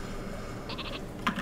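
The Super Sheep weapon in the Worms video game lets out a short electronic bleat over a low background hum, brief and fairly quiet, with no voices.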